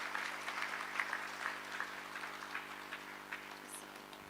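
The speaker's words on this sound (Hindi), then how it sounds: "उनका हम जोरदार तालियों के साथ स्वागत करते हैं" Audience applause welcoming a Brahma Kumaris speaker at a talk in Vasundhara, Ghaziabad, heard as a thin, faint, steady patter of scattered clapping that holds evenly throughout, with no talk over it.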